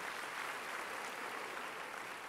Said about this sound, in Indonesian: Beri tepuk tangan yang meriah betul.